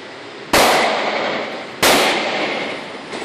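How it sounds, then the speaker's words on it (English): A Benelli M4 Super 90 shotgun fires slugs outdoors in two sharp, loud blasts about a second apart, each with a long ringing decay and no voices. "Try shooting slugs."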